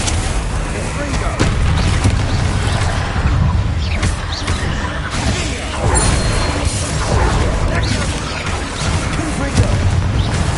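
Repeated Confringo blasting-spell explosions in the video game Hogwarts Legacy, a dense, loud run of booms and crashes layered over continuous battle noise with game voices mixed in.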